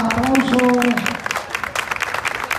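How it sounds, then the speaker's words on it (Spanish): Strong applause from an audience at a custom motorcycle event in Alcossebre, starting over a loudspeaker voice and a held tone, then continuing as a steady, dense crowd clapping throughout. "ese fuerte aplauso"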